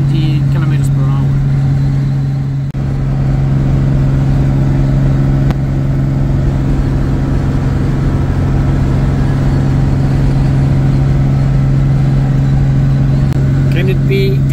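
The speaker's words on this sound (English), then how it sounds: "Even in the rain, such a pleasure to drive the E-Type. The roaring." A Jaguar E-Type's engine drones steadily at cruising speed on a rainy road, a loud continuous low hum that holds constant throughout with little variation in pitch.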